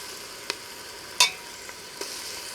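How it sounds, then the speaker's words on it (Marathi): Ginger, green chili and garlic paste with onion sautéing in a pan, a faint soft sizzle with a few sparse clicks of a spoon, one louder clank partway through. "ह्याचा जो कच्चेपणा आहे तो जाईपर्यंत छान परतून घ्यायचे"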